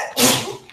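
A person sneezes once during an executive committee meeting, a short sharp burst fairly loud and close to the microphone with no talking over it.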